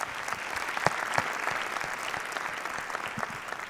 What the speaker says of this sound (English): one round of applause for this amazing gift from us